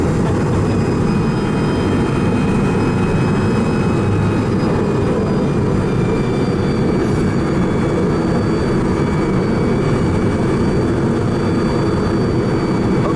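A 1200 HP Bugatti Veyron Vitesse or 1140 HP Koenigsegg Agera R at full throttle on a high-speed oval, a loud, steady roar held without a break from start to finish.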